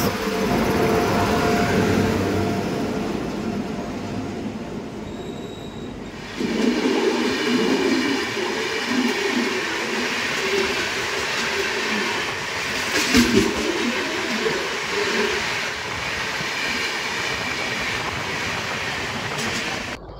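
A Ranchi to Howrah Shatabdi Express rolls into Dhanbad Junction with a loud, continuous rumble and rattle of rail cars that shifts in tone partway through and carries on steadily to the end.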